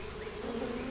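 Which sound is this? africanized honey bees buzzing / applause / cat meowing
africanized honey bees buzzing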